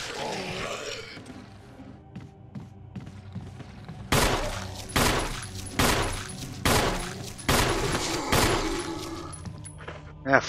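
Gunfire in the survival horror game Resident Evil Remake, a run of loud, evenly spaced shots ringing out one after another in the second half, with quieter clatter and a growling creature before them.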